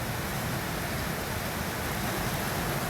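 Heavy rain falls in large drops as a dense, steady roar with no pauses or talking, continuous and loud throughout.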